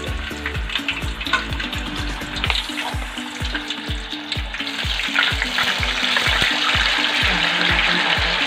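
Pieces of raw banana fry in hot oil for a banana vegetable dish, a constant crackling sizzle with rhythmic stirring strokes ticking through it, close and loud with no talking.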